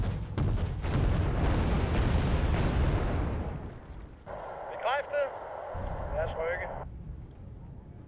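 Missiles firing and exploding in the war strategy game Wargame: Red Dragon, a dense, loud rumbling barrage that fades out after a few seconds, followed by a voice talking over quieter background noise.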